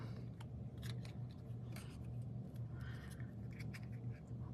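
Scissors cut through scenery paper in a quiet crafting session. Soft, quick snips and light paper rustles come close but faint over a low, steady background hum.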